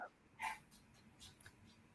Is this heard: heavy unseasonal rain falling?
no